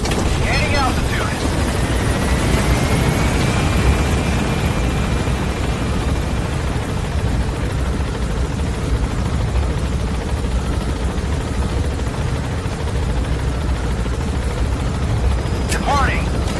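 Helicopter lifting off and climbing in the video game Metal Gear Solid 5: The Phantom Pain, a steady, loud broadband rotor and engine roar that holds throughout with little change, a few faint game sounds on top.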